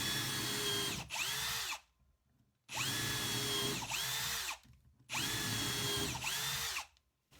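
A cordless drill driver fitted with a small 4 mm bit bores in three separate loud bursts, each a whirring spin that bogs and swoops in pitch, with short silent gaps between them.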